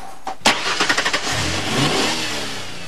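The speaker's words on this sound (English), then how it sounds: "And engine and transmission noise is loud as heck" A 1992 Ford Aerostar Eddie Bauer EXT 4WD with a 4-liter V6 starts with a sharp crank and catch, settling into a loud, rough running drone with transmission whine, near and alone.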